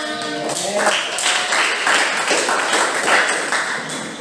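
A classroom of students claps after a group presentation, a loud, close, continuous patter of hands that starts with a brief tonal ring and holds steady throughout.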